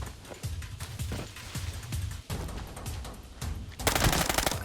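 Gunfire in the shooter game Arena Breakout: repeated rapid bursts and single shots crackle throughout, ending in a louder, denser volley near the close, with no voices.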